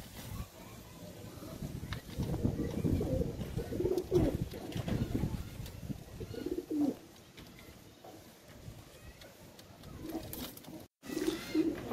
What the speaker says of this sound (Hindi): सारे कबूतर अपनी शिकायत कर करके अब अंदर जा रहे हैं धीरे धीरे।